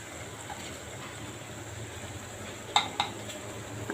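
A spoon stirring olive pickle with spices in a pan, a steady low sizzle throughout with two sharp scraping knocks against the pan near the end.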